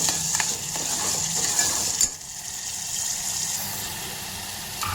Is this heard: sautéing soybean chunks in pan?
yes